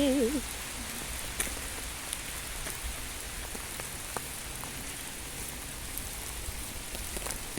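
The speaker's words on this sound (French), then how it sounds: "La petite pluie d'été." Steady light summer rain pattering on a surface, a soft continuous hiss with scattered drops, briefly joined by a faint voice at the start.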